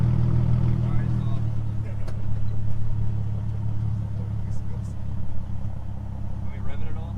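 A car engine runs steadily with a deep low rumble, close and continuous for several seconds, with the air conditioning switched off.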